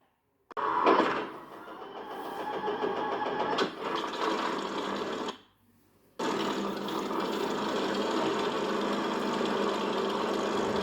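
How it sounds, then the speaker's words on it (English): An 80-year-old Spitfire aircraft engine starts up and runs with a rattling, shaking drone, heard from inside the cockpit, loud and steady, cutting out briefly before resuming. "I'm in a Spitfire. It's just started up. It's rattling, it's shaking, it's 80 years old."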